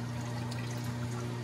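Water draining from a GE WWSE5240G3WW washing machine with a slow-spin fault, a steady continuous pouring and trickling flow over a low constant pump hum, fairly close and moderately loud, with no talk.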